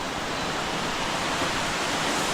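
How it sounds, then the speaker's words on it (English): Banjara waterfall in Kasol, Himachal Pradesh pours with a constant broadband rush of falling water, loud and near, with no voices. "Let's see the waterfall."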